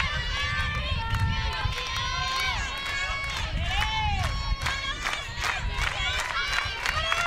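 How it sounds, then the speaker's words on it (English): Loud softball crowd at an Arizona versus UW game, a steady roar of voices and whistles swelling throughout with excited shouts on top, plus a commentator talking over it. "Crowd starting to get in as well."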